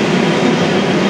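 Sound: metro train at station

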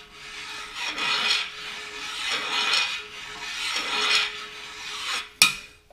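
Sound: metal file filing Caterpillar D2 engine block deck

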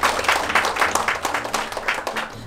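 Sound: audience applause

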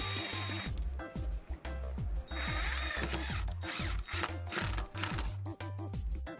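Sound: screwdrivers securing screws into a TV stand strip

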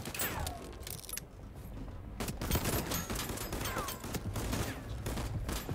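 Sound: shrapnel shotgun firing in the video game Voidtrain

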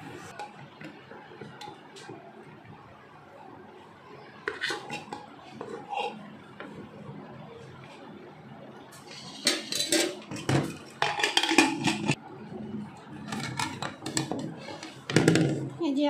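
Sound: mixing rice on a plate for a meal

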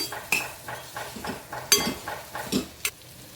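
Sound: stirring pumpkin vegetable with coriander in a pan

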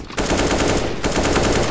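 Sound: gunfire in video game CS:GO zombie escape

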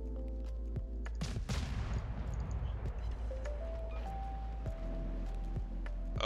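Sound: naval gunfire from a warship in the World of Warships video game

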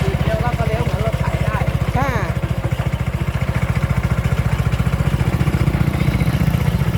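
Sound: lawn mower engine running while cutting grass

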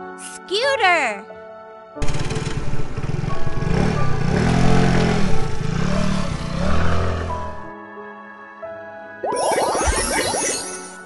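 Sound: scooter sound effect from a baby games app

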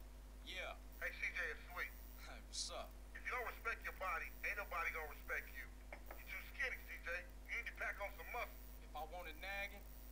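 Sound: telephone ringing in GTA San Andreas video game

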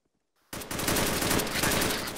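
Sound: automatic gunfire in the video game Arma 3

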